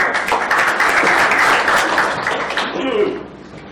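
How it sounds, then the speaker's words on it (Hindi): Seminar audience applauding, a dense wash of clapping from many hands that holds steady for most of the clip and then fades out. "उनके लिए स्पेशल ताली इसलिए बजानी पड़ेगी"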